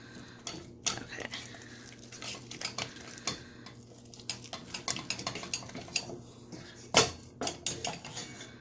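A small spatula scrapes and clacks against a bowl while mixing almond puff topping, giving irregular taps and scrapes with one sharp knock near the end. Faint room tone and hum sit underneath.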